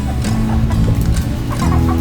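Roosters and chickens on Kauai clucking busily and close by while they squabble over food, a dense overlapping run of clucks with no pauses.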